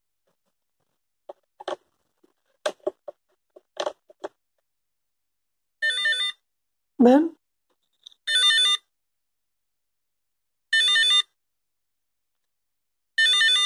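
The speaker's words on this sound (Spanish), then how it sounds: "Yo en este caso emulé el teléfono" A recycled buzzer driven by an Arduino beeps out a synthetic telephone ring: scattered short chirps and a sweeping tone first, then four buzzy trilling bursts separated by long silences.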